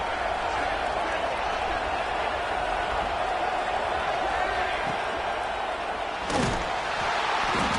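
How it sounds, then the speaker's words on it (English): A football stadium crowd at a home game roars in a loud, steady wash of cheering and noise meant to spur the defense near its own end zone, with a sharp thump and clatter near the end. "here comes the noise. This crowd is trying to inspire this defense to make a big red zone stop"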